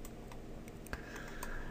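Numeric values typed on a computer keyboard while working in Maya 2015 animation software: a few light, soft key taps close by with one sharper click, quiet and without talk.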